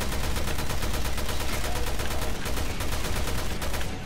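Rapid, continuous gunfire in Resident Evil Revelations 2 Raid Mode, loud and steady for several seconds with tightly packed shots and no pauses.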